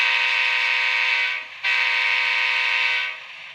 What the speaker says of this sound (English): that horn's crazy loud